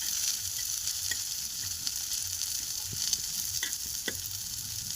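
Dry spices frying in a pan for matar paneer, a steady broad sizzle that runs the full length with a few soft stirring clicks and scrapes, close and even, no voices.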